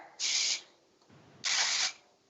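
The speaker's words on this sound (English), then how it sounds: "I love my texture builder, which is like a dry volume spray." Dry volume texture spray misted onto hair, two separate hissing bursts of about half a second each, close and clear, with quiet handling noise between them.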